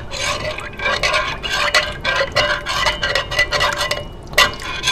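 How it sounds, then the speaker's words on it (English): A spoon scrapes around the inside of a cast iron skillet, loosening crusted food in close, repeated gritty scraping strokes with no talk. "I like to just, like I said, kind of run a spoon around the inside"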